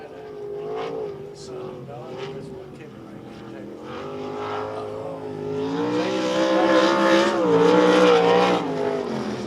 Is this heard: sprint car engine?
yes